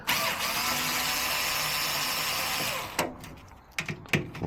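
A power driver loosening safety screws from scrap electronics with a bit kit, a steady whirring run for a few seconds, then clicks and clatter of parts and tools nearby.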